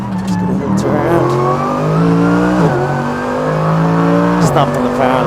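Mercedes AMG GT3 race car accelerating hard on a circuit, heard from inside the cockpit: a loud, close engine climbing through the revs with several quick upshifts.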